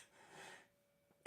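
A single sharp, explosive cough bursts out loudly after a quiet pause, preceded by a faint breathy sound.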